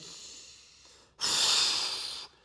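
A person draws a deep breath in during a band-assisted dual leg extension ab exercise, a loud, sustained airy inhale lasting about a second, following a quieter breath.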